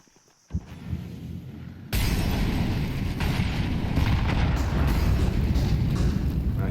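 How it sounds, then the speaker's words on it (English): A grenade explodes in a Counter-Strike-style esports match. A sharp burst is followed by a sudden, sustained, loud broadband roar of blast and rumble lasting several seconds. "Nice grenade damage at the start."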